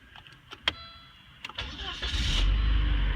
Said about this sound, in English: I turned the car on.